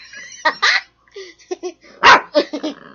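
Small dog giving short yappy barks amid high, excited sounds, close by, with brief gaps between bursts and no talking.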